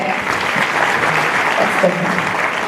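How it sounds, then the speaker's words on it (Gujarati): Audience at a live Gujarati folk music show in Leicester applauding, a loud, dense and steady wash of clapping from a large crowd. "જોરદાર તાળીઓ ગુજરાત સમાચાર અને એશિયન વોઇસ માટે."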